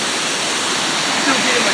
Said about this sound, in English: So here comes a waterfall down through here.